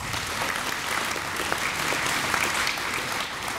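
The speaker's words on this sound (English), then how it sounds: "Let's please give them one more round of applause." An audience at a utility cooperative's annual meeting applauds in a steady, dense round of clapping throughout, fairly close and with no talking over it.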